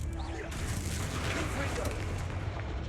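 Spell blasts from Confringo and Bombarda in the Hogwarts Legacy video game, a dense rumbling burst of booming impacts under spoken incantations and game noise.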